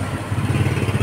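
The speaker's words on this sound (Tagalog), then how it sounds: "Starter motor." Honda XR200 motorcycle with a starter motor cranking, a short burst of rapid, clattering mechanical pulses close by, with no voices.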